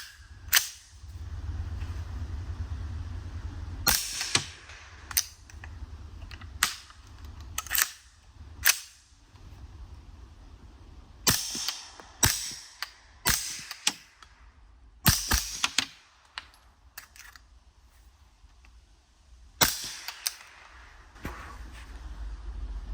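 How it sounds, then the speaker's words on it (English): A CAR-15 SD with a 9-inch suppressor and PA Max lower fires 124-grain rounds outdoors, giving a series of sharp, snappy muffled shots, some single and some in quick pairs, separated by pauses over a low background rumble. "We have the 9-inch suppressor on the CAR-15 SD, PA Max lower."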